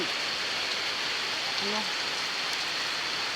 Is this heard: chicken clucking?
no